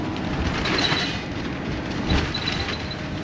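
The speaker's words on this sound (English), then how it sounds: "I've been looking at this train track all day, waiting on a train." Steady, loud rumbling roar of a train rolling along the track, with faint metallic clatter and a brief thump midway, no voices.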